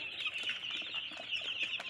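A crowd of twenty-day-old Rhode Island Red chicks peeps continuously in high, overlapping chirps, with soft rustling and fluttering close by.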